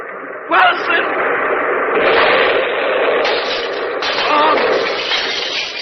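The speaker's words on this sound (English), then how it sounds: "That was a bomb!" A bomb blast in an old radio drama, a sharp loud burst followed by a broad roaring rumble that swells and sustains over several seconds, with dramatic voices shouting over the noise.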